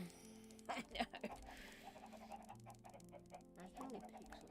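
Several pixelated chickens in Minecraft Bedrock cluck in scattered bursts, quiet and mixed with game sounds and people talking over them.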